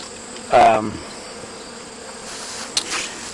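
Honeybees hum steadily around a hive in a tree while one buzzes loudly past close by, followed later by a brief nearer buzz.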